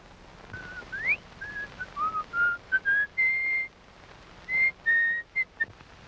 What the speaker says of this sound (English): You don't mind if a man whistles to himself, do you?